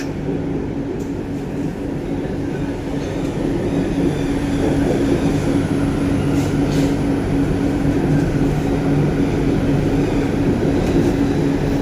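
A Kolkata Yellow Line metro train enters Dum Dum Cantonment station with a loud, steady rumble and rail roar that holds close and unbroken throughout, with no voices.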